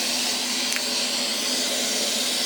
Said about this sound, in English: then I'll turn on my vacuum